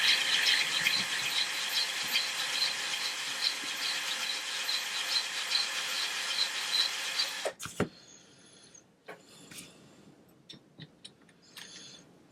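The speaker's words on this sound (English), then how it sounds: "I'm using a file first of all." Steady rasping strokes of a metal file across the bridge of a 1981 Gibson SG guitar, close and continuous for several seconds, then stopping, followed by scattered light clicks and handling taps.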